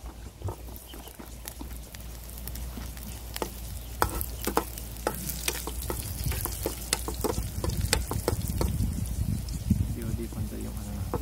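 Minced garlic sizzling in a small amount of cooking oil for a sarciado dish, a steady crackling fry with scattered stirring clicks and scrapes throughout.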